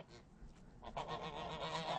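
Geese honking close by, a short run of nasal honks rising louder toward the end, no talk.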